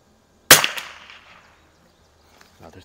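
A single sharp rifle shot from a Savage MKII at an outdoor shooting range, loud and close with a decaying echo, followed by quiet and a faint voice at the end.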